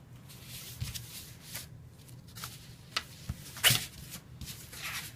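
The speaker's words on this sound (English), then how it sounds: "right now we're just getting our paper ready here." Decorative Christmas paper is handled and readied for a craft tree, giving soft, quiet rustles and crinkles in short bursts, with one sharper crisp crackle near the end, all close up with no talking.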